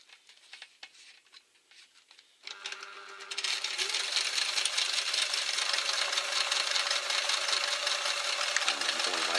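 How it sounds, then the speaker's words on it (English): A domestic sewing machine runs a zigzag stitch while sewing a shelter pouch, starting after a quiet moment and then whirring steadily and loudly with a fast, even patter until the end. "I'm going to adjust my machine so it will do a little zigzag just to make that really stronger"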